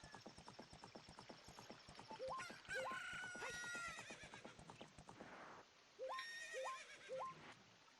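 A horse in The Legend of Zelda whinnies in short game-sound calls beside steady clip-clop hoofbeats, with a rooster crowing in the game's background ambience.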